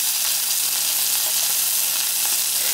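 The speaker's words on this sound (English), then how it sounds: "you just hold it like this to get a little bit of a nice sear on those edges" Pot roast beef searing edge-down in a hot pan, gripped with tongs, gives a steady, close, loud sizzle and hiss that holds without a break, with no talking.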